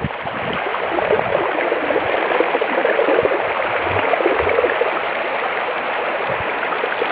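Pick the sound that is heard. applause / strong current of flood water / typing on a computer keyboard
strong current of flood water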